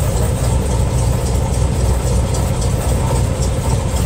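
The engine of a 1973 Cadillac Superior hearse runs steadily, a loud, close, low rumbling idle with even throbbing and no voices.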